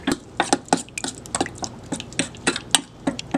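A tofu marinade seasoned with salt and pepper is mixed up close, giving a run of irregular wet clicks, taps and squelches about every quarter second, with no talking.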